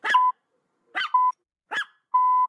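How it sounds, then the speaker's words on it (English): Small Chihuahua dog giving three sharp yaps close by, each followed by a steady electronic beep tone, with brief silences between. "here comes the dog. The Paraparam Chihuahua"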